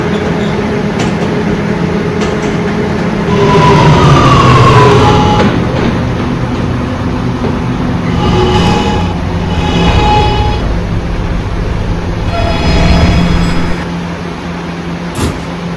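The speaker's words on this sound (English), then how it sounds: "This is the Halson Terminal bound E train" Subway E train in the Roblox game, an R211 car on a 5th Ave line, with a loud continuous running hum and rising motor whine, broken by tonal chimes and announcement-like tones near the end.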